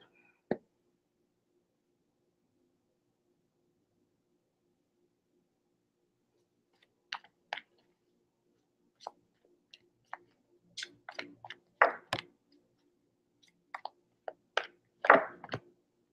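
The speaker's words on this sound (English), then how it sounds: "You guys see me shuffling, right?" Tarot cards being shuffled: after one sharp snap and a long quiet gap, a run of close, crisp clicks and riffling flutters comes in irregular bursts, with a brief louder flurry near the end and no talking.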